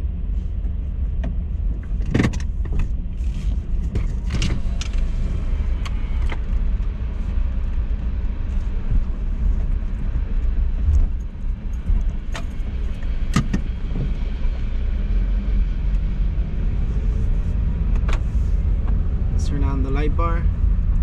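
A lifted eighth-generation Honda Civic driving at night, with a steady low engine and road rumble throughout, a few clicks and knocks over it and brief higher tones near the end.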